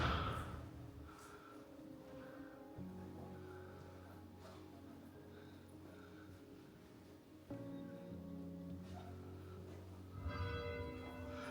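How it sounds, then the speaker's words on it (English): Church bells in an Italian town ring out in a slow, steady sequence of overlapping tolls, heard from a distance with a reverberant hum lingering between strikes. "Church bells."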